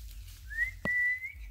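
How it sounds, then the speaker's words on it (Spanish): A person whistles a short rising note, then a longer sustained tone with a brief click in between, close and clear over a quiet outdoor background. "¿Chifla, Martín?"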